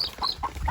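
A rooster at a Thai cockfighting ring clucks in three short, bright calls spaced evenly over a steady crowd murmur and low rumble.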